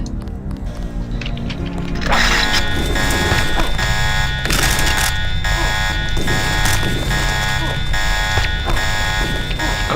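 Loud buzzing alarm blares continuously at an airbase in the Deus Ex video game, starting abruptly about two seconds in and holding steady over rumbling game ambience with no talk.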